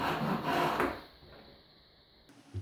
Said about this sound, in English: Saw a little away from the line.